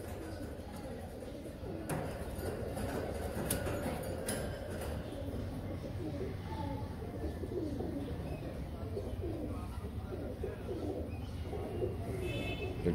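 Royal Teddy pigeons coo softly and steadily amid ambient yard noise, with a few faint clicks and knocks scattered through the continuous low background.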